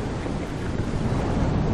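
Rumbling thunder during a storm in the video game The Solus Project, a dense, continuous low roar with wind-like noise, loud and steady throughout.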